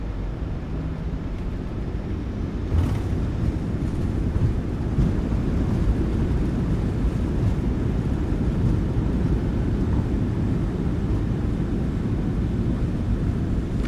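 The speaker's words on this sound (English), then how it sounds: "Reversers are out." Thrust reversers on a PMDG 737-800 in Microsoft Flight Simulator 2024 roar during landing rollout, a loud, dense, rumbling jet wash that swells after a few seconds and holds steady.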